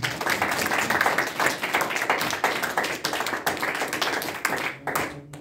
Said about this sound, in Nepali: परमेश्वरलाई जरे जोडका साथ ताली बजाउँ।